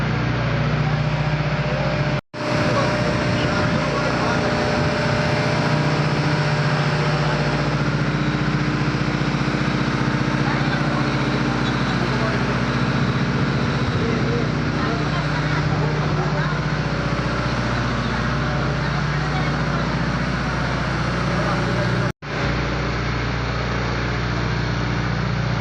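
A boat engine running throughout a boat trip, a steady droning hum with no break in pitch, with voices talking over it.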